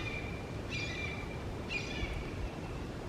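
A hawk near its nest gives two faint, thin, high descending calls about a second apart over steady low background noise, with no voices.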